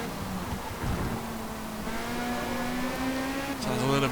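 Lamborghini LMDh race car engine in Forza Motorsport, a steady, loud high-pitched drone that rises in tone as the car accelerates, with a voice talking over it.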